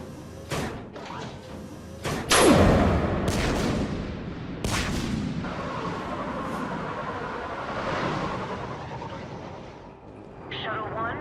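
Heavy cannon fire in the Mass Effect 3 video game, several sharp booming blasts followed by rumbling, with spoken voices over the din.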